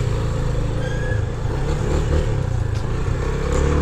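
Steady, loud engine drone of a motorcycle weaving between cars in traffic, with road rumble and passing car noise throughout.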